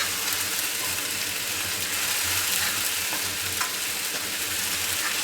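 Ginger garlic paste stirred and frying in a kadhai over a slow flame, giving a steady, dense sizzle with soft scraping of the stirring running throughout, close and continuous with no talking.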